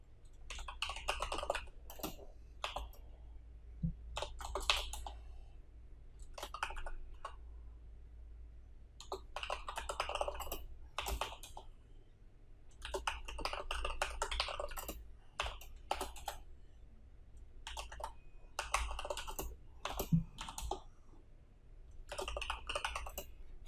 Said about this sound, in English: So let me type all the arithmetical operators that we have.